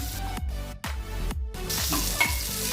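Pomfret fish fries slowly in oil over low heat, a close sizzling hiss with stirring taps and brief dips in sound, the sizzle growing denser toward the end.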